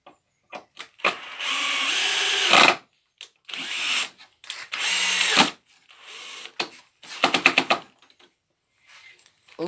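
A power drill whirs in several loud bursts of varying length while drilling holes in wood, with short pauses between and a quick run of rapid stuttering pulses near the end.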